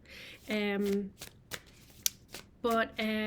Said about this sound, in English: I've shuffled the cards